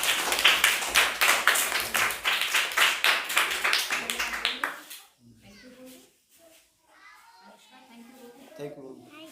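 Primary schoolchildren clapping together in a classroom, a fast run of sharp, fairly loud claps for about five seconds that stops abruptly, followed by quiet children's voices and faint chatter.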